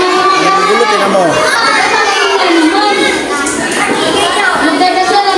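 A large group of children chatters, shouts and squeals together indoors before a meal prayer, a loud, continuous overlapping din of young voices.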